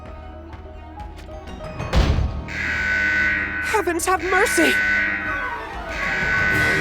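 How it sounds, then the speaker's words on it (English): A triggered door trap sets off an alarm in the Final Fantasy War of the Visions video game: a sustained, buzzing electronic tone follows a heavy thud, while a voice exclaims over it. "It's an alarm. The trap appears to have been triggered."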